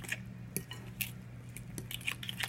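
Tajine ingredients stirred together in a bowl, with a handful of soft clinks and scrapes of a utensil against the dish over a steady low hum, fairly close and quiet.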